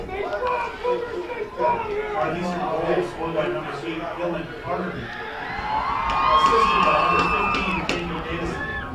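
A partisan home crowd at the Plattsburgh High School Sports Complex cheers a Cougar soccer goal, a dense wash of shouts and whoops swelling louder toward the end, with talk over the top.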